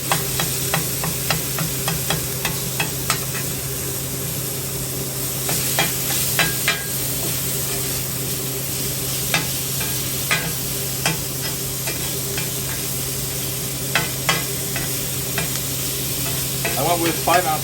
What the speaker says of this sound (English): Now we start going ahead and chopping it up.